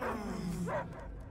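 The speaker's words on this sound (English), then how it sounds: "I hear only barking." A dog in Marvel's Guardians of the Galaxy video game gives one close, short bark that rises into a whine, heard alone over a low steady background hum.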